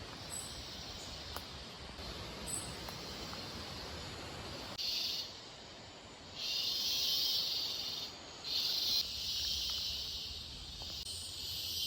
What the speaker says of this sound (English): you can maybe hear the water above all of the cicadas that are making all that noise